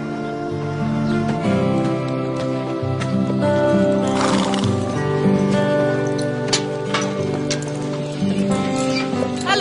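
A horse neighs loudly over a steady clip-clop of hooves, with music-like tones and some background voices.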